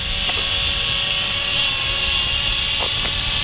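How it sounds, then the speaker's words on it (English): A small, cheap JD-10HW camera quadcopter drone hovers in altitude hold outdoors in a light breeze, its propellers giving a loud, steady high-pitched buzzing whine close by. "The altitude hold, if you just watch here, I'm not touching the throttle at all."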